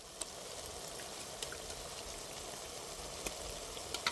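Ginger garlic paste bubbles and sputters in hot oil, a faint, even crackling hiss with a few scattered pops, heard close and alone without speech.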